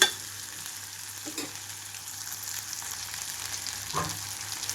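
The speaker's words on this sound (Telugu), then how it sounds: "రెండు 3 నిమిషాల పాటు వేయించుకుంటున్నాను" Sliced bitter gourd frying in a pan, a steady, fairly quiet sizzle with a couple of brief scraping stirs, close by and with no talking.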